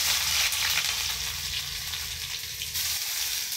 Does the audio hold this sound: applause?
no